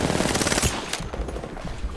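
Gunfire in the video game Apex Legends, a fast burst of loud automatic shots at first, then a broken string of scattered reports and impacts with no talking.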